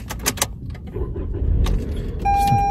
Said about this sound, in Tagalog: Start ko na nga muna itong sasakyan.